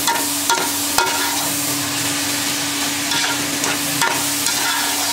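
A spoon stirs a sweet Hyderabadi rice dish in a pot, sending out a steady hiss with a low hum under it and a few sharp clinks of metal on metal scattered through, close up with no talk.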